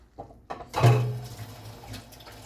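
Tap water runs into a kitchen sink while shrimp curry is being prepared with ice-cold shrimp and water. A brief splash opens into a steady, close rush that gradually tapers off, with no talking.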